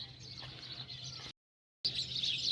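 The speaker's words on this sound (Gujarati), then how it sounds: "હમણાં હે ને ચકલા બહુ આવે" Sparrows gather around a village cattle shed where maize is fed, their dense, high chirping forming a steady chatter that drops out briefly to silence, then returns brighter and busier.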